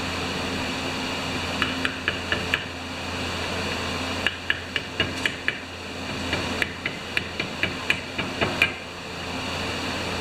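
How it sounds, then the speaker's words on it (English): A 1-pound framing hammer strikes in quick bursts of sharp taps, several groups of blows over a steady humming background, close and moderately loud. "I think this big 1-pound framing hammer or whatever it is."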